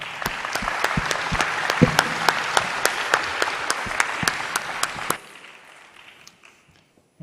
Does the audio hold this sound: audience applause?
yes